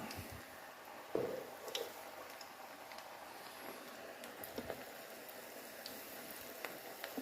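Onion bhajis deep-frying three at once in a small home fryer, a steady low bubbling sizzle with scattered soft pops and one louder splash as a batch goes into the hot oil.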